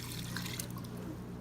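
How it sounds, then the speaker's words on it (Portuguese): Water pours steadily into a pressure cooker holding chicken feet, a close, continuous splashing trickle for a moment. "Acrescente água"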